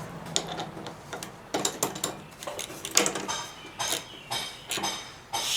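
A ratchet snugs down a spark plug on a Yard Machines push mower's flathead small engine, giving a series of short, close metallic clicks and clacks in uneven bursts, loud against a quiet background.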